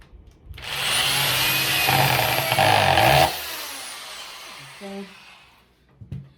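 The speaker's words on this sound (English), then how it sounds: "The drill is a lot faster" A power drill whines loudly for a few seconds, its pitch rising and dipping as it bites into material, then cuts off, leaving brief clunks.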